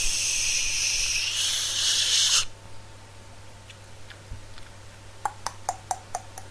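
A cola bottle is cracked open with a loud, steady fizzing hiss lasting about two seconds, then a quiet pause followed by a row of small sharp clicks and ticks.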